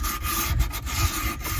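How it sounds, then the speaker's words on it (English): Sanding the edges of a cut opening for a sink in a Honda Element camper build, a close, rhythmic scratchy rubbing in quick back-and-forth strokes, loud and continuous with no voices. "I'm just gonna sand down the edges"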